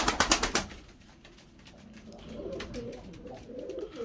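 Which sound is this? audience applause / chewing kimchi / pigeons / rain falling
pigeons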